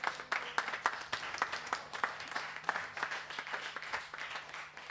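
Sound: clapping, applause

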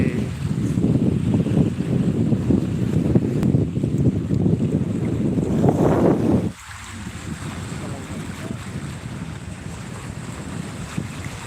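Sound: wind blowing

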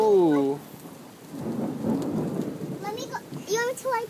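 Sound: rain falling during a thunderstorm

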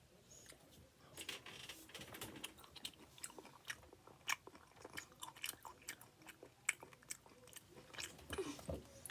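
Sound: chewing raw flatfish sashimi

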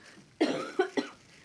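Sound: cough

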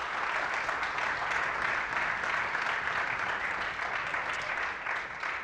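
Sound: audience applause at school concert

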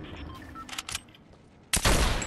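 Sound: sniper rifle gunfire in a video game

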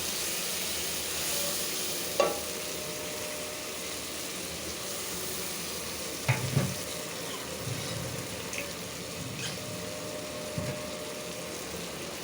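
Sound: frying spices: coriander powder, bay leaf

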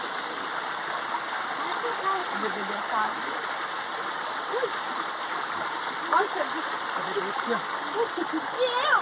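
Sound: flowing water of a natural stream

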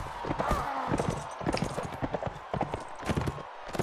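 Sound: horse hooves galloping in Mount & Blade: Warband video game

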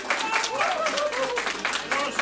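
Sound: small round of applause from TV show audience

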